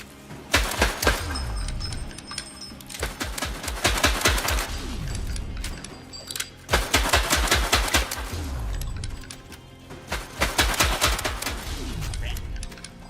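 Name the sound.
gunfire shooting the boss in video game Gang of Frogs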